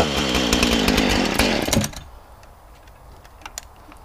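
A chainsaw fitted with a cheap, slightly dull chain bites into cedar being readied as cants for milling, roaring loud and steady for nearly two seconds before cutting off, leaving quiet background with a few faint clicks.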